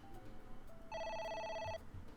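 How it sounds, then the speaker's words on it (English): A telephone in AI: The Somnium Files rings once with a bright electronic trill lasting under a second, moderately loud over quiet background. "A phone. Should I pick it up?"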